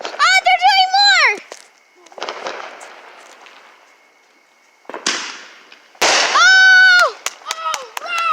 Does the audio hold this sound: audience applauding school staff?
no